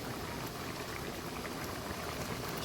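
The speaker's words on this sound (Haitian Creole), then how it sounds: "Ça c'est viande qui a bouilli, il est presque cuit." Meat boiling in a pot of water for a vegetable and crab stew, a steady, soft bubbling hiss that continues evenly throughout with no talking.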